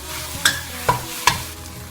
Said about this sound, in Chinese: 入香菇翻炒